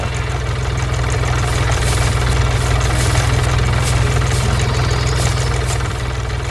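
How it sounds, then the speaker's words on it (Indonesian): A red tractor pulling a hay baler runs steadily at close range, its engine giving a continuous low, throbbing drone with a mechanical knock and vibration, and no voices present. "Traktor merah bersama mesin pengumpul jerami sedang bekerja keras."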